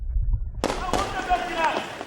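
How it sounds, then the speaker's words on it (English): Sharp gunshot cracks burst out amid outdoor street noise in downtown Conakry, a couple of loud reports with echoing tails, while voices can be heard in the background. "Gunfire in downtown Conakry."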